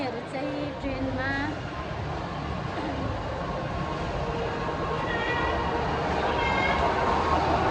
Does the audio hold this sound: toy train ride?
yes